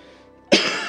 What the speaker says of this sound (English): Why am I coughing so much this game?